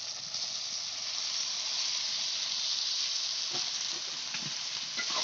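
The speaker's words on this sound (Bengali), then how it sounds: "আমার মশলাটা কষানো হয়ে গেছে। এখন চিকেনটা ঢেলে দিলাম।" About 900 grams of chicken hits a hot, fully cooked spice masala for a village-style Bengali chicken curry, releasing a loud, continuous close sizzle and hiss with a few faint stirring clicks underneath, without voices.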